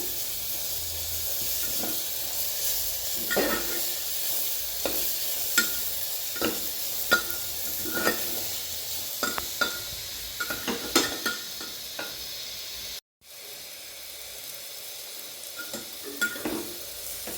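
Carrot and pea pulao mixture sautéing in a pan, a steady sizzle and hiss with repeated scrapes and taps of a spoon stirring, brief silence near the end before the frying resumes.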